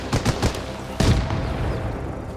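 Gunfire in the video game Arma Reforger during a team battle: a few quick shots in succession, then a louder blast that rings out and decays into a lingering echo.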